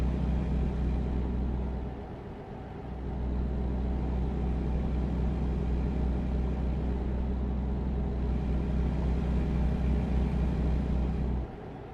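A truck engine in American Truck Simulator rumbles with a low, steady drone while cruising, easing off briefly once before settling back into its even hum.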